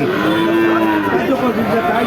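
Cattle moo loudly and continuously at a busy Bangladeshi cattle market with heifers and bulls for sale, a sustained low bellow over constant crowd murmur.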